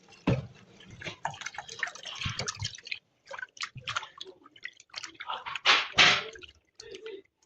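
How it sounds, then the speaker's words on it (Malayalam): Vinegar is poured into a pot of water and falls in splashy, dripping spurts with short pauses between them. The liquid sounds near and moderately loud in a quiet room. "അങ്ങനെ നമ്മൾ കഴുകി വൃത്തിയാക്കി അതിലേക്ക് വെള്ളം വെച്ചതിന് ശേഷം കുറച്ച് വിനാഗിരി അതിലേക്ക് ഒഴിച്ചു കൊടുക്കാം"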